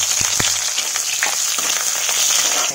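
Chopped onions hit hot oil in a pan in a village kitchen, bursting into a loud, close, continuous sizzle with a few sharp pops and spatters near the start.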